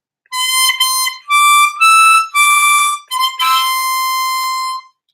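Harmonica melody phrase blown and drawn on holes 7 and 8, a handful of bright reedy notes with short gaps and a longer final held note, close and solo.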